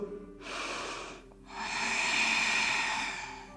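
A deep breath drawn in during a yoga session: a short breathy intake, a brief pause, then a longer, steady, audible inhalation heard up close, with no talking.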